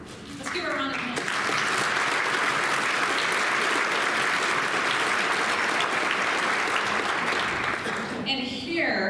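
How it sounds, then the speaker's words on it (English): Audience applause at a Republican women's Senate candidate forum: a loud, sustained burst of clapping from a roomful of people. It starts after a brief spoken moment and tapers as talking resumes at the end. "Let's give her a round of applause."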